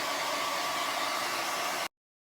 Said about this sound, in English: And then we'll hit it with our hairdryer.